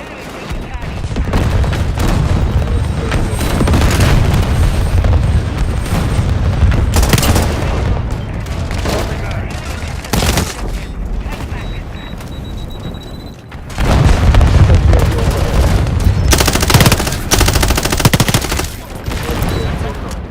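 Artillery strike and gunfire in a multiplayer shooter video game, with continuous loud booming blasts and rapid automatic fire throughout, punctuated by heavier explosions.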